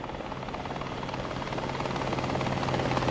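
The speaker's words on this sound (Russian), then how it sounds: "Вертолет." Helicopter in the video game War Thunder: a dense, steady rotor chop with a fast pulsing beat, close and loud, growing slightly stronger over the few seconds.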